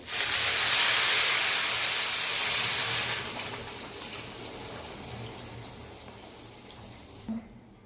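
Hot water poured into a pan of frying rice for Bengali pulao bursts into a loud, hissing sizzle that holds for a few seconds, then settles into a softer steamy bubbling.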